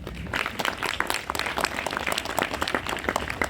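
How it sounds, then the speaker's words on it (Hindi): An audience at a women's government college yoga event in Rewari claps in a lively, uneven burst of many hands, fairly close and steady for a few seconds. "ताली बजाओ इनके लिए।"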